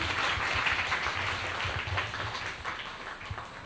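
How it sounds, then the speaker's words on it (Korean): Steady applause from an audience at a youth talk concert, honoring five panelists after a question session. Dense, even clapping fills the whole stretch at moderate loudness, with no talk over it. "우리 다섯 분에게 다시 한번 큰 박수 부탁드리도록 하겠습니다."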